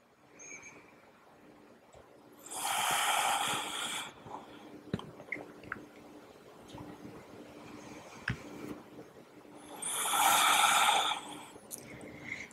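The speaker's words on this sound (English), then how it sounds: "Soft breath." Two long, soft, airy breaths rise and fade during a slow morning yoga session, close and gentle, separated by quiet stillness with faint small movements.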